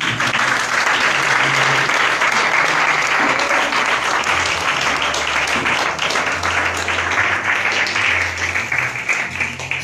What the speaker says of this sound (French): Est-ce qu'on peut acclamer ici?